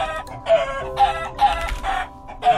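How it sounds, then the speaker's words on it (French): Chickens clucking in a video game, loud and close, with a series of rhythmic cluck bursts repeating about every half second against a quiet background. "Je vais laisser les poulets se faire tuer."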